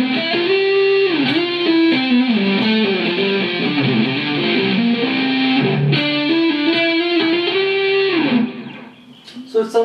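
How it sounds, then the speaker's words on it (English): A Paul Reed Smith 245 SE electric guitar in the middle pickup position with both humbuckers on plays with a warm, moderately driven tone: a melodic line with chords and sustained notes, then fades out with a few short picked notes. "let's come down to the middle position where both the humbuckers are working"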